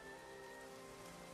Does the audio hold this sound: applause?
no